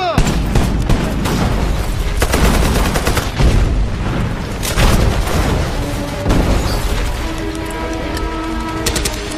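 Dense, rapid gunfire from a war film battle scene, with sustained bursts of automatic fire and scattered loud shots mixed with booms, while voices shout over the noise.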